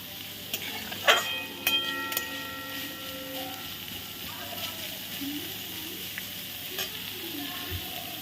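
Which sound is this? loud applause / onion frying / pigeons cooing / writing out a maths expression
onion frying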